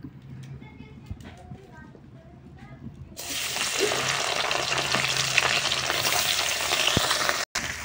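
Fish pieces hitting hot mustard oil in a kadai burst into a loud, steady sizzle after a quieter stretch with a voice speaking, then hold an even frying hiss to the end.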